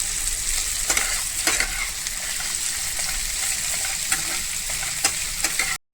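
Onion and capsicum frying in a pan, with a steady close sizzle and scattered scraping taps from stirring throughout.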